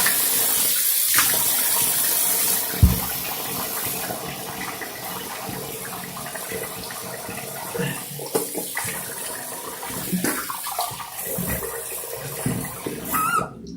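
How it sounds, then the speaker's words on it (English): Water gurgling and rushing out of a bathroom sink as it empties after shaving, steady and close with intermittent sloshing and bubbling toward the end. "I'm gonna empty the sink."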